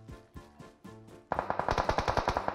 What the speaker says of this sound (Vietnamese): Uầy, có người bắn kìa.